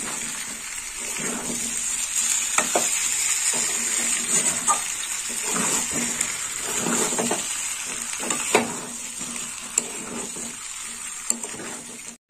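Salted cauliflower florets and potato pieces sautéing in a pan, with a steady, close hiss of frying and repeated soft scrapes and taps of a spatula stirring throughout.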